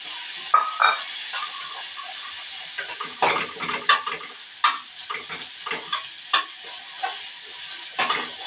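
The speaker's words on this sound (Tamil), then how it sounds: "இந்த சுண்டைக்காய் போட்டு அதிலே வணக்கிறோம்மா" Turkey berries and tomato sautéing with salt in a pan, a steady sizzle broken by repeated scraping stirs and light clinks of a utensil against the pan, close and fairly loud, no talking.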